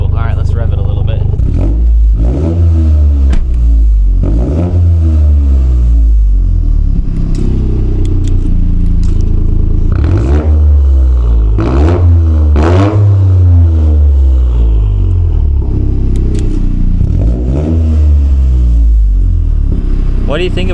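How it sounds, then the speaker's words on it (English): A Toyota GR Corolla with an OTL Performance catback exhaust revs repeatedly, loud close throttle blips that rise and fall in a series of surges, with people talking during the pauses. "Rev it a little bit."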